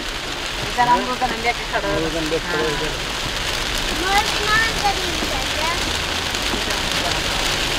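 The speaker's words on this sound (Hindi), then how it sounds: "बारिश हो रही है।" Steady, dense rain hiss fills the whole stretch, with people talking over it early on.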